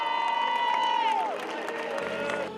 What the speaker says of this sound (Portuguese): a saudação da multidão